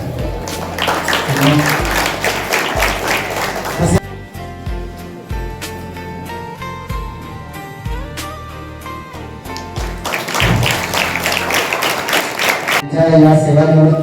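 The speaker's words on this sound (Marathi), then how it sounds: "जोरदार टाळ्या वाजवून आपण या सगळ्यांचं स्वागत केलं." Audience applause at a retirement ceremony for a non-teaching staff member, bursts of hand clapping at the start and near the end framing a quieter middle stretch with faint background voices and music.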